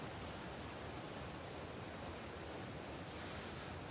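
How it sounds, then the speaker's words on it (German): Waterfall in the video game ARK: Ragnarok, a steady, even rush of falling water filling the whole clip, faint and unbroken with no voices. "Wasserfall."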